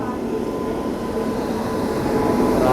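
Machilipatnam–Bidar SF Express at Lingampalli station gives a steady low rumble and rolling drone, fairly close and continuous, building slightly toward the end.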